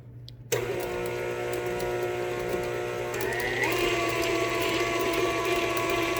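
An electric mixer runs on cookie dough ingredients, starting abruptly with a steady whirring motor hum that rises in pitch partway through, fairly quiet and alone.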